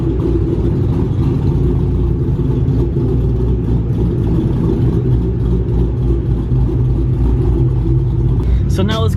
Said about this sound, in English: Pypes off-road H-pipe, Borla S-type Stingers, Ford Performance hot rod camshafts, and American Muscle V8 engine right here